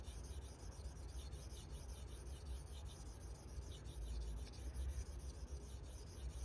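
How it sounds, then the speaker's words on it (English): A knife blade with a recurve section, a Grimsmo Norseman, worked on a 600 grit sharpening stone, giving a steady, continuous rasping rub close by that runs the whole time without pauses or talk. "Now we're going to go to the 600 grit on the recurve section of the knife."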